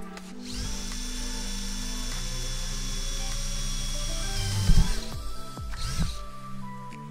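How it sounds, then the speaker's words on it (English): A power drill whines steadily at high pitch for several seconds while drilling holes into a van roof to mount a MaxxFan, then winds down with a few thuds and knocks as it stops. "And now, drill in more holes into the van."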